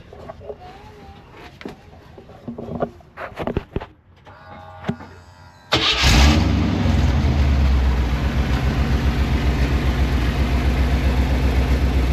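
Chevrolet K5 Blazer engine starting after scattered clunks and knocks of repair work: a sudden crank and catch, then a loud, steady idle rumble carrying to the end.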